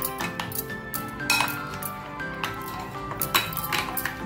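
A spoon mixing coarsely ground roasted peanut powder with sugar in a bowl, with irregular metallic clinks and scrapes against the bowl, close and clear with no talk.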